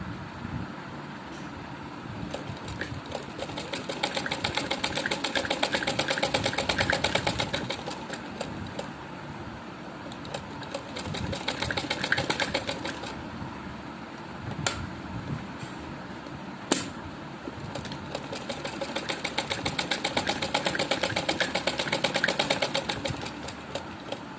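A sewing machine stitches a suit in a steady, rapid mechanical run that swells and eases in several long bursts, close and alone with a few sharp clicks between passes.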